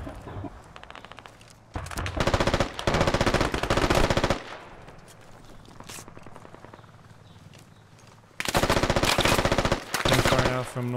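Machine gun fire in the squad video game Squad, loud sustained automatic bursts in several long stretches separated by quieter gaps of ambient game noise.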